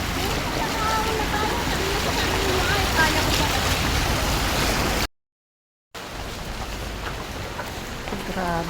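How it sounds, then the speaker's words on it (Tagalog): Strong floodwater current rushing past at night, a loud continuous broadband roar with a brief silent gap, and a voice heard faintly near the end. "Grabe ang baha, ang lakas ng current."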